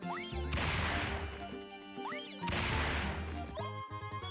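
Rocks shattering in the mobile game Pokemon Masters during an evolution shard mining event, with two loud crashing smashes over a bright looping game soundtrack.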